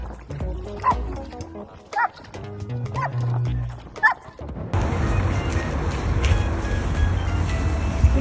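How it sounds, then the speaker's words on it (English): A German Shepherd barks in several sharp, separate bursts over the first half, close and loud, then a steady broadband noise bed takes over for the rest. "I bet the dog's barking is scolding its owner for making it worry."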